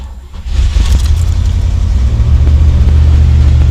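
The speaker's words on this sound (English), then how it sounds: "If the car ever starts." A car with a manual choke starts up close by: a short crank, then the engine catches and settles into a loud, steady low idle with a slight rev at first, and a faint jangle of keys.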